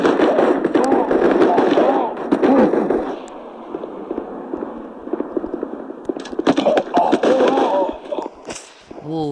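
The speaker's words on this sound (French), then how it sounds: "Wow, j'ai frôlé la grenade." Explosions and sharp gunfire bursts ring out in a Guns of Boom match: loud cracking blasts and rapid shots cluster at the start and again near the end, with a quieter lull between.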